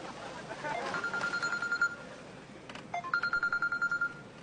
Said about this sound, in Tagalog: Oh, may tumatawag sa'yo.